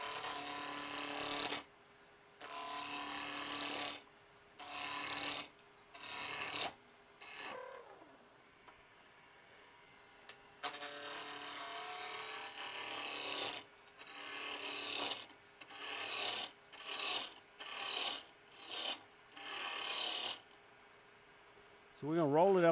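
A woodturning gouge cuts on a lathe, shaping wooden Christmas tree ornaments in repeated scraping, rasping bursts, each a second or two long, broken by brief quiet pauses.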